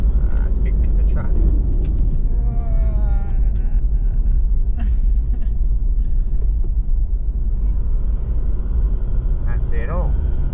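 A big truck on all-terrain tyres drives at about 80 km/h on a corrugated outback road, a loud, constant low rumble and rattle throughout, with people talking over it.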